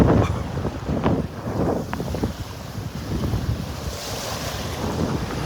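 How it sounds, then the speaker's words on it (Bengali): Big sea waves surge and crash around Mosuni Island, a loud continuous roar of surf with heavy wind buffeting the microphone throughout. "কিরকম বড় বড় ঢেউ"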